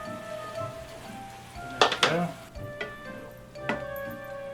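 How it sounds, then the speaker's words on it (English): Ground meat and tomato simmering in a pan, a soft steady sizzle and bubbling close by, broken by a few sharp clinks and scrapes of a utensil against the pan. "while that's cooking down and simmering"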